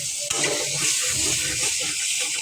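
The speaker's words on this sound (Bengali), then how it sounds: "এই মশলাগুলো, লাউগুলো ছেড়ে দিলাম, দিয়ে ভালোভাবে নেড়ে চেড়ে নিতেছি" Bottle gourd and spices being stirred in a hot frying pan, a steady broadband sizzle with soft scraping of the spatula throughout, close and fairly loud with no voices.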